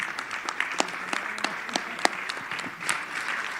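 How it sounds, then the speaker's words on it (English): Scattered, fairly quiet clapping from a small audience at a scientific symposium session, with individual distinct claps standing out over a thin background. "a big applause"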